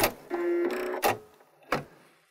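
A Baby Lock Brilliant sewing machine runs its thread-cutting cycle, with a short mechanical whir carrying a steady hum, followed by two sharp clicks as the cutter works.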